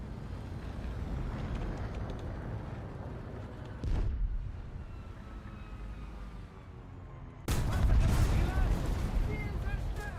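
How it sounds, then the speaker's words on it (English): Explosions in War Thunder thud in over a constant engine rumble: one sharp blast near the middle, then a heavier, louder boom later that lingers with crackling debris. "I didn't hope for an explosion like that"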